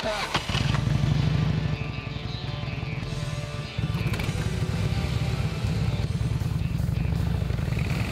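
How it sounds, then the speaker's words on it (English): Harley-Davidson motorcycles are ridden outdoors in Wisconsin forest country, giving a steady, close engine rumble that drones on throughout with a slight dip partway through. "We get to ride Harleys."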